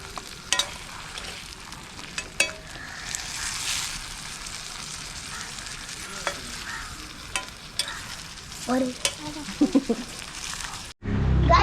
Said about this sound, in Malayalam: ജസ്റ്റ് ഒന്ന് ഇങ്ങനെ ഇളക്കി കൊടുത്തിട്ട്